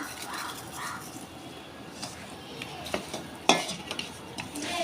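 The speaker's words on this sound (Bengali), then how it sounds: "মাছগুলো ভেজে নিচ্ছি" Tilapia pieces, rubbed with salt and turmeric, frying in oil in a pan, a steady soft hiss with occasional clinks and scrapes of a utensil, one sharper clatter near the end.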